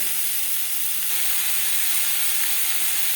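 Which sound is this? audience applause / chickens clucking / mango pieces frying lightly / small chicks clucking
mango pieces frying lightly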